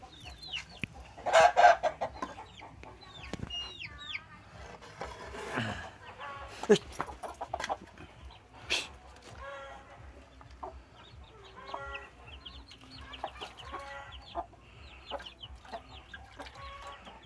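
Hens cluck and a rooster crows in a small home garden, with scattered close clucks and calls, a loud burst early on, and someone talking intermittently among the birds.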